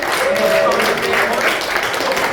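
Comedy club audience at Yuk Yuks applauding after a stand-up set: steady, dense clapping from the crowd, loud and close, with a voice briefly audible under it.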